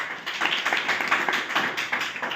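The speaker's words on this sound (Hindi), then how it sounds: "ताली, तन्नू के लिए ताली" Classroom applause for a student named Tannu, a fairly close burst of many hands clapping rapidly and steadily with no voices over it.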